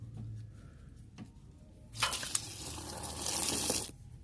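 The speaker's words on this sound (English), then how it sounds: "Now that you've let your coolant drain" Engine coolant draining from a 2003-2006 Kia Sorento, a faint trickle with a few drips, swelling into a steady hissing pour of liquid for about two seconds before stopping.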